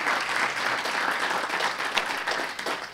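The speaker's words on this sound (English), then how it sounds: "Please give them a round of applause." A candidates' night forum audience claps for the two moderators, a full, sustained round of applause with slight swells and a few sharper claps standing out near the end.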